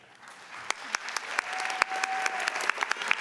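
Applause at a commencement ceremony swells gradually from quiet to fuller clapping, with individual sharp claps popping out of the crowd and a faint steady tone running underneath.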